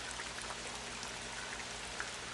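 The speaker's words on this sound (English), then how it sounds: "But listen to this rain sound." Steady rain falling in the video game Tint, a dense soft patter with occasional drops, quiet and continuous until it cuts off abruptly.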